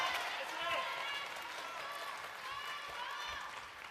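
Sustained applause from a table tennis crowd at a WTT Champions Incheon 2025 semifinal, a steady wash of clapping with cheering layered over it at moderate distance and no break.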